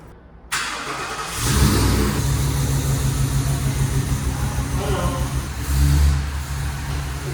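A Class C RV engine starts and runs, rumbling steadily close by as the motorhome is driven out, with a brief rise in revs near the end.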